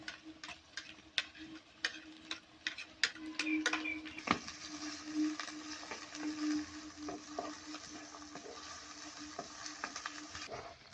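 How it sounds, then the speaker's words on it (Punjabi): Onions and green chilies fry in a pan with ginger and garlic for a cabbage and peas sabzi, giving a soft, steady sizzle under a run of sharp spoon clicks and scrapes, close and quiet, with no talk. "ਪਿਆਜ਼ ਪਾ ਦਾਂਗੇ ਤੇ ਹਰੀਆਂ ਮਿਰਚਾਂ ਵੀ ਆਪਾਂ ਨਾਲ ਹੀ ਪਾ ਕੇ ਤੇ ਇਹਨਾਂ ਨੂੰ ਭੁੰਨ ਲੈਂਦੇ ਆ"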